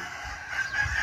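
A rooster crows at a poultry breeding yard, a short, moderately loud call heard alone over faint background noise.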